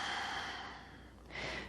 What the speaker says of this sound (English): Big inhale. Big exhale.